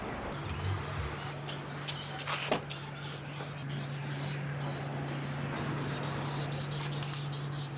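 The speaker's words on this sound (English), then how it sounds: "Now we're going to paint it with this high temp paint." A metal stand for a glassblowing studio is spray painted with high-temperature paint from a can, giving a close, continuous hiss broken by a few short pauses over a low steady hum.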